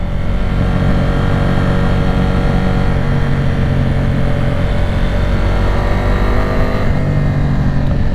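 A motorcycle on Michelin Road 6 tires rides through wet corners, its engine droning loud and steady with layered harmonic tones, riding close throughout with no pauses.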